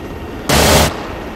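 A helicopter door gunner's machine gun in Arma 3 rips off one short, loud, dense burst lasting under half a second, standing out sharply over steady rotor-like background noise.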